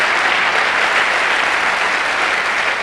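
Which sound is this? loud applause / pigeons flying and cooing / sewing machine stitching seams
loud applause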